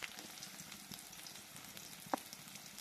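Shallots and dried red chilies frying in hot oil, a steady soft crackle and sizzle with scattered pops and one sharp louder pop near the end, no voices.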